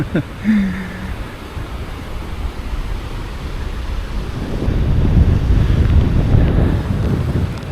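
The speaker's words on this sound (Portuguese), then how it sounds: "Ó, que vento!" Strong wind buffets the microphone at Praia do Forte beach in Florianópolis, a continuous loud roar with surf beneath it that swells stronger in the second half.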